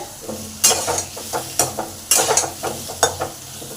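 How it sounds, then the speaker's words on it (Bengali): Potato pieces are sautéed in oil with salt and turmeric, with a soft continuous sizzle broken by repeated loud scraping stir strokes in an irregular rhythm, close up and with no talking. "পাঁচ মিনিট আলুটাকে আগে নুন তেলের মধ্যে কষে নিলাম"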